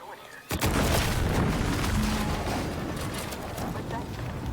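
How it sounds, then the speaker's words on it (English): An explosion in The Outer Worlds 2 bursts in abruptly after a short lull, then rolls on as a loud, sustained rumbling roar with crackling debris for several seconds. "Was that an explosion?"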